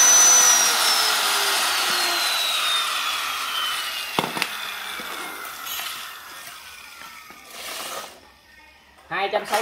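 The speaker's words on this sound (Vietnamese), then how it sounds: "Con này con cưa lọng Hitachi anh em nha." A Hitachi 100V electric jigsaw whirs with a high motor whine that slowly winds down, followed by clattering handling knocks, with someone talking over it.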